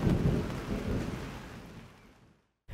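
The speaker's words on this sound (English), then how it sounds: "Can you hear the thunder coming back?" Thunder rolls over a campsite during a storm, a deep rumble with rain that slowly fades away before a fresh burst at the end, close and loud with no talk.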